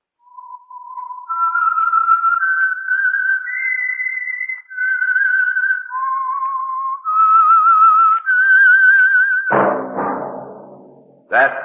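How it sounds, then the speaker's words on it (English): A lone whistler carries the eerie theme of the radio mystery show The Whistler, a slow wavering melody of held notes rising and falling, ending in a sudden resonant orchestral stab. "That whistle is your signal for the Signal Oil Program, The Whistler."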